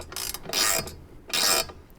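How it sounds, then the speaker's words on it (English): Wrench tightening roof rack bolts on a Toyota Tacoma: two short bursts of close ratcheting clicks, quiet and alone. "As you're tightening these down, just make sure that your wrench doesn't slip and scratch your paint"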